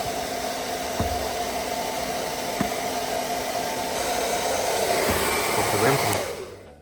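A steady, loud whirring cooling fan of an Aferiy P-210 2400W portable power station under load, with a broad hiss and faint hum, running continuously before cutting off near the end.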